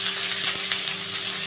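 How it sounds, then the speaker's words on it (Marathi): A spoonful of oil heating in a pan for frying onion, a steady bright hiss with faint crackles, close and continuous with no voices. "तर इथे मी ना 1 चमचा तेल ऍड करतेय कांदा भाजण्यासाठी."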